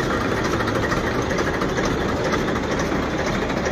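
A tractor donated to a cow shelter idles at its inauguration. Its engine gives a steady, loud low rumble that runs unbroken and close by, with no talk over it.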